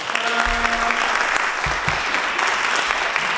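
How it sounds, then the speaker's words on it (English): An audience applauds after the introduction of a one-act play, a steady wash of clapping filling the room from start to finish, with a few low thumps and brief murmurs underneath. "Yes, clap for her."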